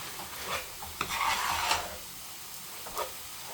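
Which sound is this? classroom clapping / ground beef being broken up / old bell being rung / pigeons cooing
ground beef being broken up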